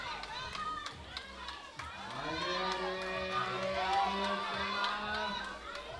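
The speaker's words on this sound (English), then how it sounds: "cheering for this athlete" A crowd cheers and shouts for a climber at the Bloc Summer Masters bouldering semi-finals in Graz, a sustained roar of voices with whoops and scattered claps that swells and holds loud throughout.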